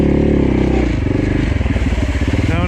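A heavy motorcycle rides a muddy course, its engine chugging loudly and close with a steady, pulsing throb as the bike works through the mud, and a little clatter from the course comes through alongside.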